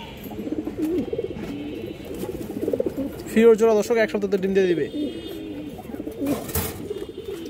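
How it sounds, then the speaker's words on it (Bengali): A pair of silver bagha khaki pigeons coo in short throaty bursts at close range, heard mostly in a brief run in the middle while someone talks over them. "সারাসারি লাইনের এক জোড়া সিলভার বাঘা খাকি কবুতর আছে"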